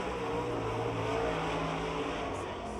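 A late model race car at Pittsburgh's Pennsylvania Motor Speedway running down the back straight, a steady distant engine drone held at an even level for the whole short stretch.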